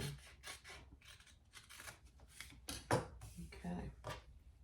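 Scissors cut through fabric for a mini traveler sling pouch in a series of short, close snipping and rasping strokes, with brief pauses and light handling noise between cuts.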